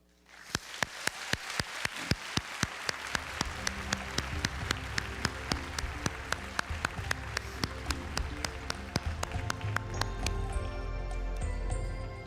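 An audience claps in welcome for physicist Raphael Bousso at a panel on holograms, a dense burst of applause with sharp rhythmic claps that starts suddenly and stays loud to the end.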